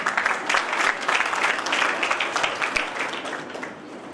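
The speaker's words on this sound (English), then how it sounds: "So we should give our organization a huge round of applause." Conference audience gives a big round of applause at a tenth-anniversary event, dense clapping from many people, loud and sustained, tapering slightly near the end.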